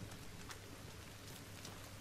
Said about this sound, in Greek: ευτυχώς βρέχει